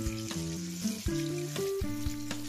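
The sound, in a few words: lentil cakes (dhoka) frying in oil, being flipped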